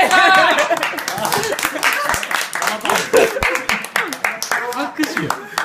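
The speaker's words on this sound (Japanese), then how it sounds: "拍手" Scattered hand clapping from a small group at a casual Japanese music gathering, bursts of claps mixed with lively overlapping chatter and laughter close by.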